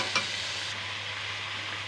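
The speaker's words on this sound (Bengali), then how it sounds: "সমস্ত সবজিগুলো আমি একসাথে খুব ভালো করে মিশিয়ে নেব।" Mixed vegetables stirred with spices in a hot pan, a brief close sizzle with a spoon scrape at the start, no voices.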